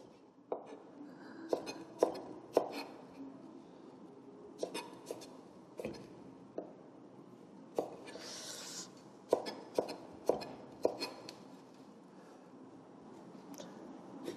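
Kitchen knife chopping bellflower root (doraji) into thin 3mm strips on a cutting board, irregular sharp taps in small bursts with pauses, close and moderately quiet.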